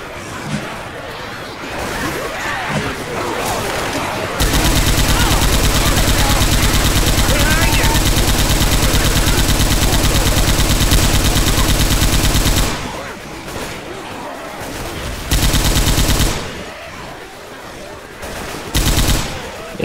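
Rapid sustained gunfire from the video game Left 4 Dead 2 fills a long loud stretch in the middle, with shorter bursts after it and players talking excitedly around the shooting.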